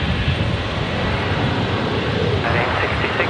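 A Fokker airliner taxiing at Brisbane Airport gives a steady, loud engine rumble and roar, with someone talking over the noise.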